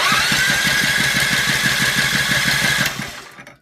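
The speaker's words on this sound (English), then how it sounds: "turn this over. It should not start because it doesn't have any gas in it." A DuroMax XP7HPE 208cc small engine on a mini bike cranks over on its electric starter without fuel, a steady rapid chug of starter pulses for about three seconds before stopping, loud and close, with no talking.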